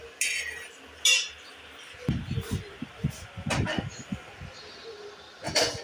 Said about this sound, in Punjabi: ਲਿਆਓ ਜੀ ਕੜਾਈ ਲਿਆਓ ਰੱਖੀਏ